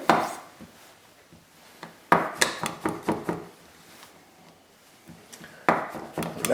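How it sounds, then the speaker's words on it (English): A French knife slices vegetable stems on a cutting board, giving quick clusters of crisp, close chopping taps separated by brief pauses. "here's where I'm going to use a French knife. You can slice it."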